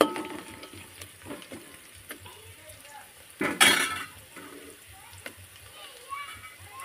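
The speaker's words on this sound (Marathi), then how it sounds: "मस्त परतून घेते मी त्याला. गॅस कमी केलंय मी." Onion poha being stirred in a pan over low heat, with spoon scrapes and clinks on the metal, a soft sizzle, and one louder clatter midway, while someone talks.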